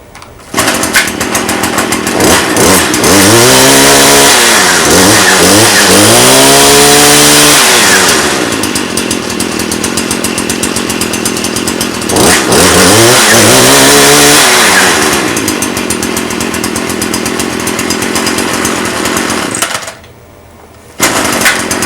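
A Stihl FS 70 C brush cutter, just fitted with a new throttle spring, starts and runs loud and close, with two long rising-and-falling revving sweeps between steady high idle, then cuts out briefly before running again.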